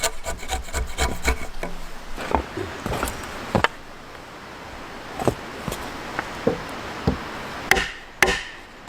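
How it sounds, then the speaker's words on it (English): A chisel excavates waste wood chunk by chunk to cut a mortise pocket in a wooden beam, with a fast series of close scraping and chopping strikes at first, then sparser sharp knocks and cracks spaced apart. "He excavates the waste wood, chunk by chunk, creating the mortise, a pocket inside the beam."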